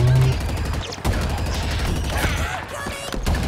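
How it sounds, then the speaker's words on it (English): Heavy weapon fire in the Halo Infinite game, including a plasma cannon, comes as a rapid, loud volley of repeated blasts with short breaks, mixed with mechanical clatter and combat effects. "A plasma cannon!"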